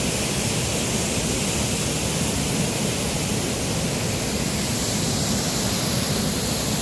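Yeongju waterfall in Juwangsan's gorge pours in a steady, dense broadband roar, close and unchanging for several seconds, with no voices heard.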